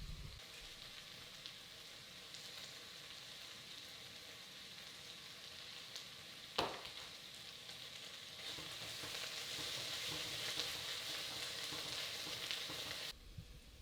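Vegetables sizzling with tomato paste in a pot for minestrone soup, a continuous soft frying hiss throughout with one sharp scrape or tap midway, fairly quiet and without voices.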